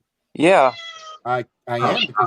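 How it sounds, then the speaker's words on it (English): A pet cat meows close by in a drawn-out, wavering cry, with a person talking over and between the meows. "That's my cat."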